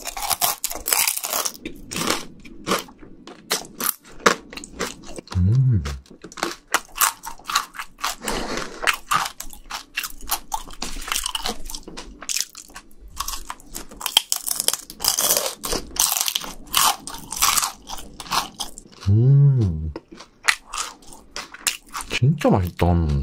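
Crunchy fried shrimp is bitten and chewed up close in loud, crisp crackling bursts that recur throughout, with a person speaking softly between bites.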